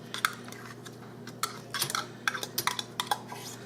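Drained chopped green chilies from a 4-ounce can tipped into a mixing bowl for a jalapeño popper cheese ball, heard as a run of light clinks and scrapes from a spoon against the bowl, close and fairly quiet, with no talking.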